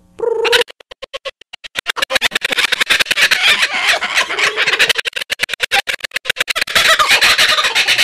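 A raucous chorus of kookaburras laughing, loud and close, with rapid rhythmic cackling pulses that start in bursts and then run almost continuously.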